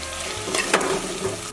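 Soffritto with bay leaves frying in a pan, a steady close sizzle and crackle with a few brief stirring scrapes.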